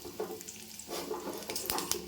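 Garlic frying in a pan with roasted dal for mint chutney, a soft steady sizzle with a few light stirring clatters, close and fairly quiet, no talking.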